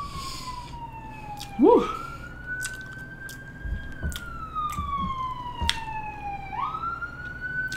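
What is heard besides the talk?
emergency vehicle siren passing outside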